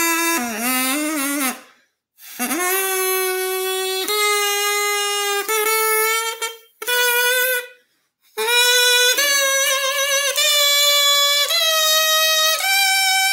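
A homemade wind instrument is blown in several sustained tones with short gaps between them, the pitch shifting from note to note. It plays loud and alone, with no talking over it.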